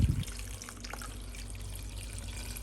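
Water pours into a deluxe cooking blender over quartered, cored cabbage for coleslaw, opening with a brief loud splash that settles into a quiet, continuous trickle.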